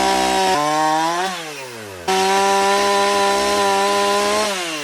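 A chainsaw cuts wood for a custom bridge build at an outdoor shooting range, the engine howling loud and close at full throttle, dipping briefly as the bar bogs in the cut, then surging straight back to a steady high whine.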